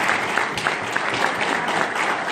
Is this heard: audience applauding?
yes